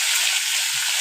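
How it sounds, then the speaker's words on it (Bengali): Cut beans and potatoes dropped into hot oil, sizzling and crackling steadily up close, a bright continuous hiss with no talking. "তো তেল গরম হয়ে গেছে, এবার বিনস আর আলুটা কেটে রেখেছিলাম সেটা দিয়ে দেবো।"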